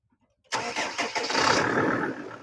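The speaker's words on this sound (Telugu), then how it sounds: "అన్న ఒకసారి బండి స్టార్ట్ చేయండి" A 2015 Mahindra Rexton RX7 automatic SUV with a heavy engine starts up after a short silence, catching abruptly and settling into a steady, close, loud idle with no talk over it.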